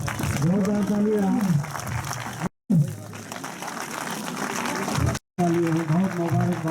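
Audience applause at the Mahu Valley Festival, a dense wash of clapping heard beneath someone speaking loudly over a PA system, with brief dropouts in between.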